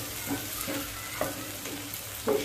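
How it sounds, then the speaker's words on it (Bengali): Onions frying with a spice mix in a pan for a mushroom, pea and potato curry: a steady close sizzle with soft, regular scraping strokes of stirring. "তারপরে যে ভালো করে এগুলোকে একটু ভেজে নেওয়ার পরে আমি এতে দিয়ে দেব মশলা"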